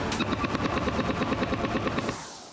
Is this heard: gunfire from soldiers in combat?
yes